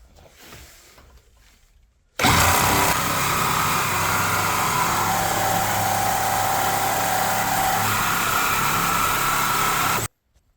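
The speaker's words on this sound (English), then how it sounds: "Now we have the Milwaukee Nitrous Carbide. Let's see how it does." A reciprocating saw fitted with a Milwaukee Nitrous Carbide blade cuts through metal in one loud, steady buzzing burst of about eight seconds, starting abruptly after a quiet lead-in and stopping sharply.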